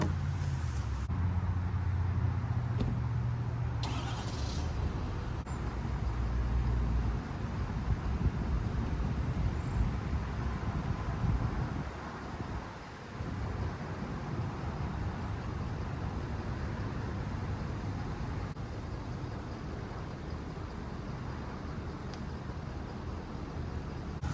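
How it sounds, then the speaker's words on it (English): A pickup truck slowly reverses to load a 2022 Arctic Fox 1150 truck camper, giving a steady low engine rumble and road-like drone that holds at an even level throughout, with faint wind noise and no talking. "Okay, I think it's time to back the truck up right now."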